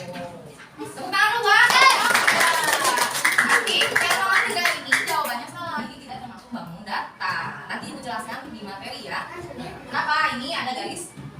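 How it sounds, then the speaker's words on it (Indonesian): Children in a classroom clap their hands together in a lively, uneven burst with chatter mixed in, then the clapping thins into scattered claps and voices talking. "Tepuk tangan dulu, Bang."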